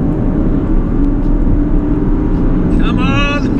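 A BMW Z4 engine drones steadily near 4,000 RPM in sport mode with manual paddle shifting, a loud low-pitched hum filling the cabin, with a brief rising whine near the end.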